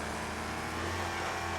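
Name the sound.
American muscle car engine revving in video game Wreckfest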